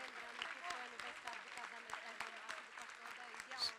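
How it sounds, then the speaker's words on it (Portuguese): During a church anniversary service, the congregation claps in faint, rhythmic beats while people talk over it. "Vamos dar uma salva de palmas para esses amados irmãos."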